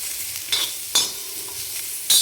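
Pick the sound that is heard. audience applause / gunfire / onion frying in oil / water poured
onion frying in oil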